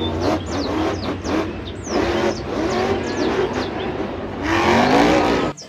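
A green Monster Jam monster truck engine revs loudly and close, holding a steady roar that swells higher toward the end before cutting off abruptly, with chirpy high-pitched squeaks scattered over the engine noise.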